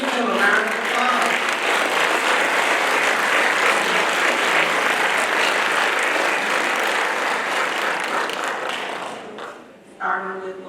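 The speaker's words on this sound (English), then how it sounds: "Give them a round of applause." Sustained audience applause fills an awards night for career and technical education students, steady and dense for about nine seconds before tapering off, with a brief burst near the end.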